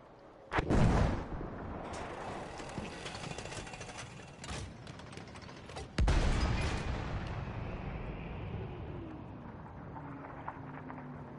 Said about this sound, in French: Un tir.